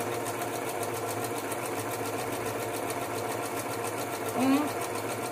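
A sewing machine stitches a fabric dish-towel holder shaped like a dress, with a steady, continuous mechanical whir that runs unbroken from start to finish. A brief voice rises faintly near the end.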